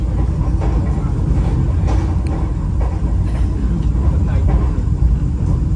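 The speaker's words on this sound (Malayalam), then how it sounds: "ട്രെയിൻ ഇപ്പോൾ പയ്യന്നൂർ റെയിൽവേ സ്റ്റേഷനിലേക്ക് എത്തിക്കൊണ്ടിരിക്കുകയാണ്." A Vande Bharat Express runs on the rails as it approaches Payyanur railway station, giving a loud, close, continuous low rumble that stays steady throughout.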